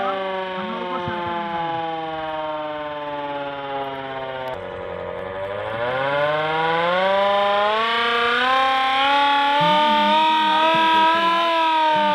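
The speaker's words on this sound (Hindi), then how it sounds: "इस तरह का सायरन" A loud civil defense siren wails continuously during an air raid mock drill, its pitch sinking then climbing again, filling the whole stretch with a steady rising and falling tone.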